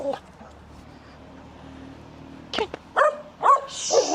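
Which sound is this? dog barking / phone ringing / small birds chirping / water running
dog barking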